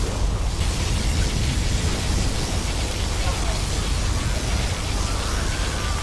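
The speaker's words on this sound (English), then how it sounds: "Particle cannon activated." A particle cannon blast in Command & Conquer Generals: Zero Hour gives a loud, sustained roaring rumble, dense and noisy like a long explosion, holding steady for the whole span.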